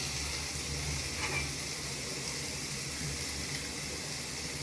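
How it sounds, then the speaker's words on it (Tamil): Onions and spices sautéing in a pan for a Tamil restaurant-style fish curry, a steady soft sizzle that holds evenly throughout, fairly quiet, with no voice over it. "இது எல்லாத்தையும் நல்லா பச்சை வாடை போகிற அளவுக்கு வதக்கிக்கோங்க"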